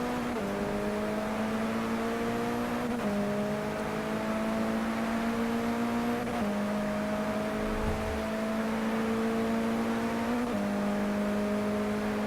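A MINI Challenge race car lapping Silverstone holds a steady, loud engine drone throughout, with the pitch rising through each gear and dropping sharply at the shifts, which come about every three to four seconds.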